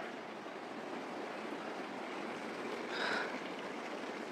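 Steady broadband rush of the Relli River flowing fills the recording, constant and close, with a faint brief tone near the end.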